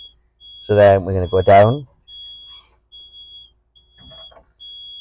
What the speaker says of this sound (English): that beeping noise, you will hear that the entire time that our lift is out